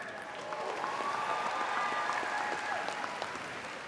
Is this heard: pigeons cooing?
no